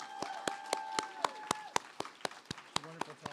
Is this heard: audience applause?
yes